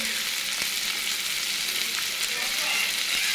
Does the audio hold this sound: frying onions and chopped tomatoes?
yes